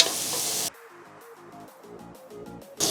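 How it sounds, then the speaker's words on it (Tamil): Beans and green chillies sautéing in a hot pan for rice porridge, with a loud steady sizzle that suddenly drops to softer crackling and stirring, then the loud sizzle briefly returns at the end. "லைட்டாக அப்படியே வதக்கிக்கோங்க."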